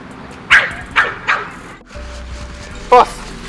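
Dogs, one of them a year-old Rottweiler, bark and yip in several sharp bursts, with three close barks in quick succession followed by another loud one after a short pause.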